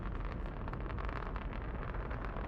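Space Shuttle Atlantis main engines roar during launch as a continuous, dense, rumbling blast, steady and broad with crackling texture, heard from a distance with no talking.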